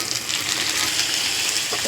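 Chopped onions frying in a pan with potatoes, a dense, even sizzle that stays loud and close throughout, with no voices.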